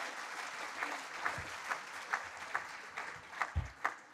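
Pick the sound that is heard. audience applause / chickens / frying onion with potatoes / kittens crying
audience applause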